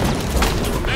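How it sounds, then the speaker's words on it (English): Gunfire in Halo 5: Guardians during a battle on Sanghelios, heard as a dense, continuous wash of shots and blasts under talk. "Who the hell is shooting at you guys?"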